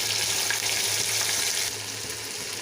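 Whole cloves, cinnamon, shahi jeera and ginger garlic paste fry in a pan for mutton keema biryani, giving a steady, loud, close sizzle with faint stirring that eases slightly partway through.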